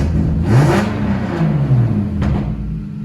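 A turbocharged BMW E36 drift car engine running after a tune, a steady close rumble with a couple of brief rev swells that rise and settle over a few seconds.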